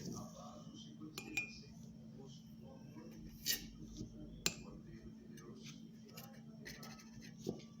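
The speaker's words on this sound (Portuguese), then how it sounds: "Você vai ter que colocar 2 colheres e meia de Nescau," Faint metallic clinks and taps of a spoon against a bowl as Nescau is spooned into brownie mix, several light, irregular strikes over a quiet room background.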